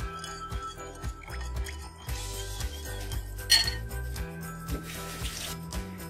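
A tofu and broccoli sauce with vegetable broth is stirred in a pan, giving soft repeated scrapes and light clinks of a utensil against the pan under a faint bubbling sizzle, close and without talk.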